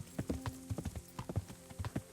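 Horse hooves clip-clop at a steady walking rhythm as a rider travels on horseback in Kingdom Come: Deliverance, close and fairly quiet, with no talking over them.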